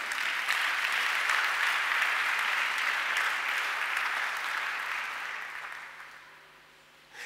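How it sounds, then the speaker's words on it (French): A church congregation at a Sunday service claps together in sustained, dense applause that holds strong for several seconds, then gradually thins and fades away near the end. "Acclamons le Seigneur."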